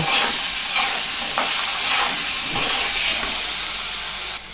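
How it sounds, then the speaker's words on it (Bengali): Diced potatoes frying in hot oil with turmeric and salt over medium heat, a loud, close, continuous sizzle with stirring scrapes coming through, fading slightly at the end. "দিয়ে আমি আলুটা আবার 1 মিনিট একটু ভেজে নেব"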